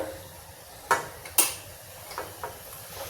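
A metal spoon clinks against a pot while stirring turmeric, red chilli powder and dried coriander into zero-oil kadhi. Two sharp, close knocks are followed by a few softer taps. No one speaks.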